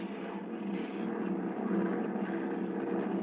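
Airplane engines climbing in an old-time radio drama sound effect, a steady, muffled, band-limited drone that holds at an even level without any talking.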